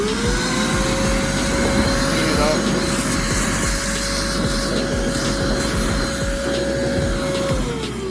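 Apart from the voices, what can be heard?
vacuum cleaner running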